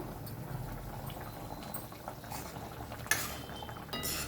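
Taro tamarind curry (pulusu) bubbling in a pot, a steady low simmering burble that runs throughout with a sharp clink partway through and brief metallic scrapes near the end, no voices.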